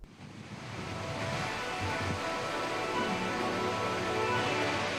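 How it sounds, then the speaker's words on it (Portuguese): A dense, steady roar of rushing water fills the scene without a break, a waterfall dropping 186 metres and crashing onto rocks nearby. "Um turbilhão de água despenca do topo da montanha a 186 metros e explode contra as pedras"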